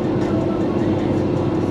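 Inside a moving train between Munich and Nuremberg, a steady low rumble and broadband rushing noise fill the carriage evenly, close and continuous, with no distinct clacks.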